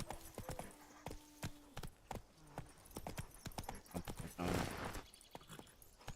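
A horse's hooves clip-clop in The Witcher 3, a rhythmic run of sharp clopping steps at close range, joined by a brief whinny-like burst near the middle.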